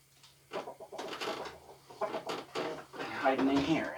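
Chickens clucking inside a hen house while someone talks to them close by, with a few short bird calls rising through his speech near the end.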